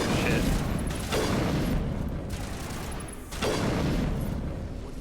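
Gunfire in the Mass Effect 1 Legendary Edition video game crackles in dense, sustained volleys, with two loud bursts over a steady roar of game sound.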